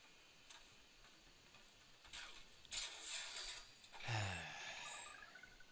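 A clue bottle clinks softly in Sly Cooper: Thieves in Time, a few faint glassy ticks followed by one brighter ringing clink, heard alone against quiet game ambience.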